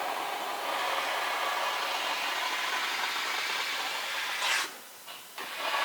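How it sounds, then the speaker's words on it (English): A steam cleaner hisses steadily while detailing a Porsche 991 GTS Targa, a broad continuous jet of vapor that breaks off briefly near the end and then resumes. "I've got the steamer ready."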